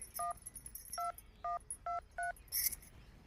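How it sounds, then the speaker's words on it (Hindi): Five short touch-tone beeps from a telephone being dialed at an uneven pace, followed by a brief sharp click. "डॉक्टर लगे फोन लगाई"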